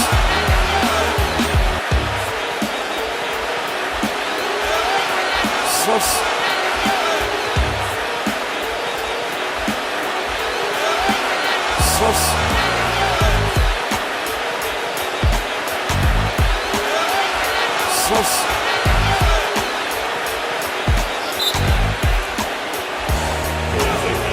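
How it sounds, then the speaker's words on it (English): Basketball arena crowd at an NBA Finals game reacting to a replay on the big screen, a steady loud roar of many voices with swelling cheers and jeers, commentators talking over it. "You can hear the crowd react to the replay on the big screen"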